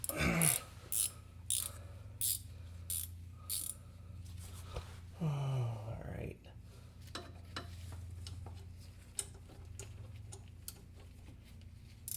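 Ratchet wrench loosening the main bolt on the AC belt tensioner of a Nissan 300ZX, repeated clicking pawl strokes in quick bursts with a brief heavier clunk midway, close and moderately loud, no talking.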